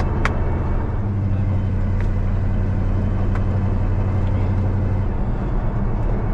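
A Chevy C10 pickup cruises through hills, its engine droning steadily from inside the cab with a constant low hum.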